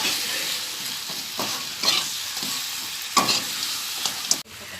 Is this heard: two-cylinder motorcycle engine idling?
no